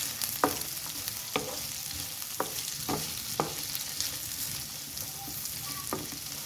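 Carrots and sotanghon noodles tossed in a hot pan, continuous sizzling punctuated by a regular series of scraping, clattering stirs roughly every second, close and fairly loud.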